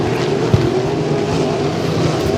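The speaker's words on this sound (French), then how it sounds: "On voit qu'il y a des ratés là, du côté de haute tension de Samuel Pagé-Morin. Des ratés dans le moteur." A hydroplane racing boat engine in a Hydro350 heat at Beauharnois runs with misfires, giving a loud, steady, rough roar with a sharp pop early on and no voices.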